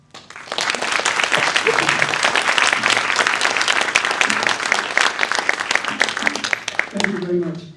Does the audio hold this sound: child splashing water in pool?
no